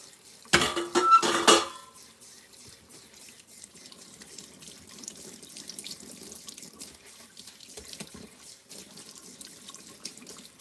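A kitchen tap runs water into a sink while items are rinsed, with clinks of dishes and cutlery; a louder clattering burst comes near the start, then a steady, quieter flow with occasional knocks.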